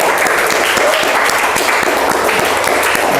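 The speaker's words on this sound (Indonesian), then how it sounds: "Kasih aplaus untuk kita semua." Applause from students in a classroom at the close of a lesson, a steady, dense wash of many hands clapping together throughout, fairly loud and without speech.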